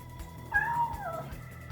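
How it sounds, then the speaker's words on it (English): A cat gives a single drawn-out meow, clear and close, over a low steady background hum. "Cats. It's cats."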